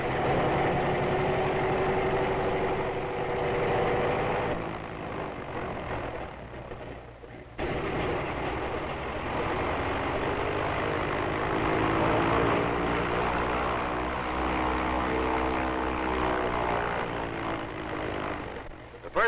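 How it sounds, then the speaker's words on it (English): A propeller airliner's engines run up one after the other before takeoff, a loud, steady, close droning roar that shifts in pitch and strength partway through. "The captain checks his motors,"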